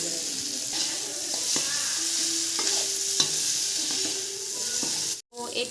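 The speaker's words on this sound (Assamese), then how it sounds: "এইখিনি এতিয়া দি দিছে অলপ বাটাৰ মছলা আৰু এইখিনি এতিয়া ভালদৰে লৰাই ল'ব" Ground spice paste frying in a pan for a local chicken curry, stirred with steady scraping strokes over a continuous close sizzle.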